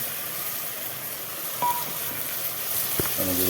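Tomatoes sizzle in a hot pan while a village-style Gujarati corn curry is being cooked: a steady close crackle and hiss with a few brief clinks and faint tones over it.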